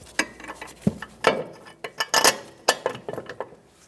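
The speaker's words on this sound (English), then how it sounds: "We're going to install our bottom bolt first." Metallic clicks and ratcheting as a bolt is threaded into the steering knuckle of a 2012-2020 Chevrolet Sonic with a 1.8L engine during front CV axle replacement, a series of sharp, close taps and ratchet strokes in an otherwise quiet garage.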